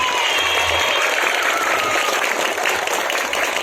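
Dense, sustained applause from a crowd for drum band performers at a school flag ceremony fills the whole stretch, loud and even, with no voices rising above it.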